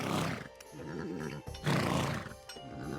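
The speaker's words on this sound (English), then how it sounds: "Some good horse noises." Horse noises in the video game Becastled: loud neighs and whinnies rising and falling in two long bursts, close and prominent with brief dips between, no talking.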